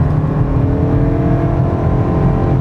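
2026 Toyota Crown Nightshade's 4-cylinder engine pulling under throttle inside the cabin, a loud, steady droning hum with a gently rising tone and no speech.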